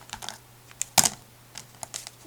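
Scissors snipping lines into a paper bag, a few sharp crisp cuts with one louder snip standing out, close-up against a quiet background with a faint steady hum and no talking.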